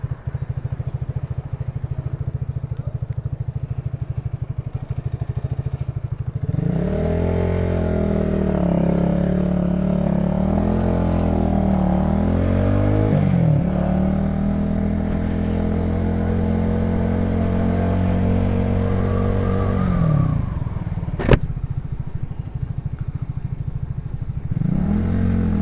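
An XMT 250 motorcycle riding through stop-and-go city traffic in New York City, its small engine droning steadily with rising and falling revs, plus a sharp click near the end.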